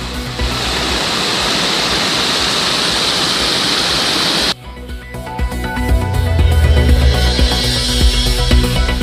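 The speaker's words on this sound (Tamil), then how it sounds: "கனமழை பெய்து ஓடைகளில் தண்ணீர் பெருக்கெடுத்து வருவதால்" Swollen hillside streams rushing after heavy rain near a mountain temple trail, a loud continuous roar of flowing water that cuts abruptly to a different, lower rumbling water scene midway.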